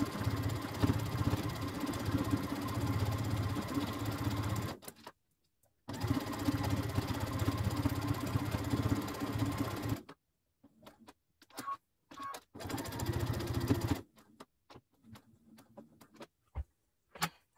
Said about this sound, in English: With the sewing.